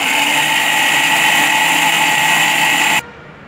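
A mixer grinder whirs loud and steady while grinding dried red chillies, urad dal, tomato and onion for chutney, then cuts off abruptly near the end.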